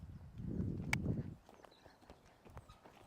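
A horse walks loose beside its handler during liberty groundwork, a burst of low hoof thuds and shuffling near at first, then fainter scattered steps on the ground.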